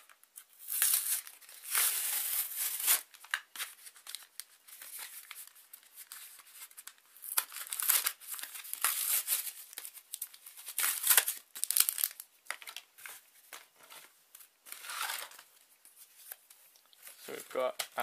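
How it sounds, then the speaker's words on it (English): Crinkly foil wrapper of a Pokemon Steam Siege booster pack being torn open and handled, with bursts of crackling and tearing close up, running throughout alongside a person talking. "So I'm just going to open it up."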